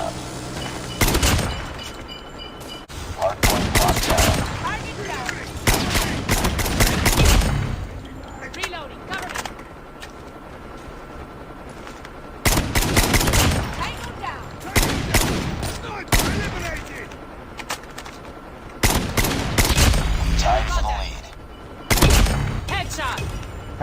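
SKS rifle fire in the mobile shooter COD Mobile, loud sharp shots in clustered bursts separated by quieter gaps, with a voice talking over much of the action.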